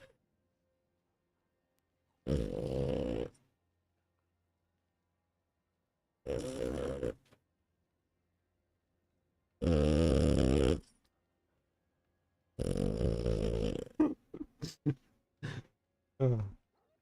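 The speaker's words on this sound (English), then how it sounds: "he does sound like he's snoring" A dog snores in slow, deep rasping breaths, four spaced snores a few seconds apart, followed by a cluster of shorter snorts and grunts, loud and close with no talk over them.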